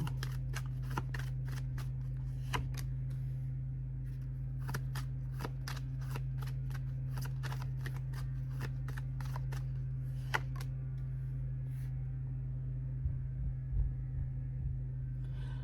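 Tarot cards being shuffled, a series of crisp, close riffling snaps and flicks in uneven bursts over a low steady hum, with no talking.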